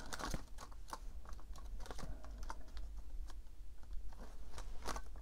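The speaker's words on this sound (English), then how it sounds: "so just a little flip through of the envelopes" Paper cash budget envelopes flipped through by hand, giving a steady run of soft papery riffles and light crinkles at close range, moderately quiet with no talking.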